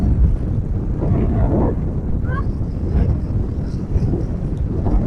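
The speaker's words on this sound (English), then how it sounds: "Super windy." Strong wind buffets an outdoor microphone at a lakeside RC hydroplane outing, a steady low roar of gusts throughout with scattered faint voices and brief higher tones mixed in.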